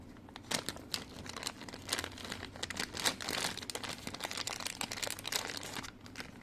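Cardboard and plastic packaging for a 36mm dual blue cooling fan for an RC car's 540 motor crinkles and tears in close, steady bursts of rustling.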